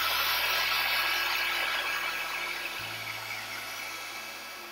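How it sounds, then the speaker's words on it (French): A heat gun blows steadily close by, drying Distress Oxide ink on photo paper; a broad, even hiss with a low motor hum that shifts pitch partway through, fading slightly toward the end. "Je mets pas mon pistolet à chaleur trop près"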